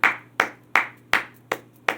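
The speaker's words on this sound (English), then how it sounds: "I can't do nothing but give a hand clap." Six crisp hand claps from one nearby person land at a steady, even pace, bright and dry, alone without speech, during a sermon or prayer.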